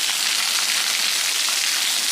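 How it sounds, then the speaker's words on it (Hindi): Heavy storm rain with strong wind in Manki, with hail reported: a dense, constant hiss of downpour pattering on surfaces, loud and unbroken, with no voices. "बारिश भी बहुत तेज़ है और हवा भी बहुत तेज़ है"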